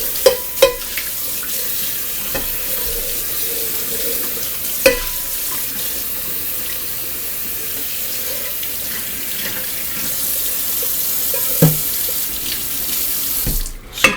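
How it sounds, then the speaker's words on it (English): Water runs steadily from a kitchen sink tap as a colander with spinach residue is rinsed, a continuous close splashing with a few sharp clanks of the metal strainer against the sink. "Let's clean up this colander real quick before the spinach dries on it."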